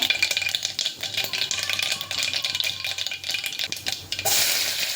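Food fries in a pan at home while a utensil stirs and scrapes against the metal in quick, uneven strokes over a soft sizzle, ending in a brighter hiss.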